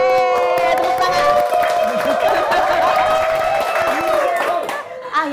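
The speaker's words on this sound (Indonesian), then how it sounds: "Yeay, tepuk tangan." At the opening of a studio talk show, a few hosts cheer with high, excited voices while light clapping patters underneath, close and lively for several seconds.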